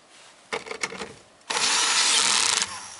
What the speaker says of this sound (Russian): шуруповерт